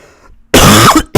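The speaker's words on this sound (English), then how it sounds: "Yes, I will cough once in a while" A single loud, close cough, followed a moment later by a short second burst.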